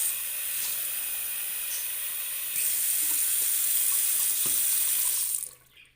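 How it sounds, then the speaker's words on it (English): Tap water runs steadily into a container being topped up: a close, even rushing hiss that grows louder partway through, then cuts off abruptly near the end. No one speaks. "So gonna go top this up with some tap water."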